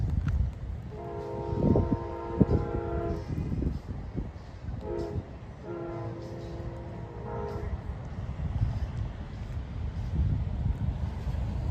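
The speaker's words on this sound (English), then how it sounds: "So Amtrak is almost here. There he is down there. Here comes Amtrak" An Amtrak passenger train passes through a crossing in Plant City, Florida, sounding its horn in stacked chords, a long blast and then shorter repeated blasts, over the steady rumble of the rail cars and some wind.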